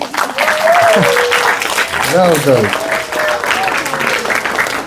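A group of children at a Sunday school applauds, a lively burst of clapping under an adult voice speaking over it.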